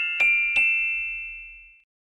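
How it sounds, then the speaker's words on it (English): Two bright bell strikes in quick succession in Deep Fear video game music, the second ringing out with a clear sustained tone that slowly fades to silence. "Which is bells of some kind? Xylophone?"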